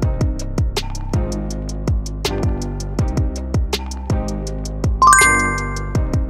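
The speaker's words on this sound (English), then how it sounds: "Oh, you got a notification?" Repeated bright chiming tones from a phone, struck in a steady rhythm of about two per second, each decaying quickly, with a higher ringing chime near the end; no voices.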